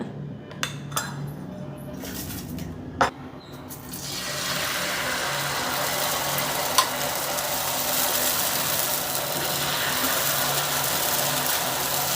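Nandini ready-made dosa batter poured onto a hot tava, a few clinks and taps before a loud, steady broadband sizzle sets in and holds, close and continuous.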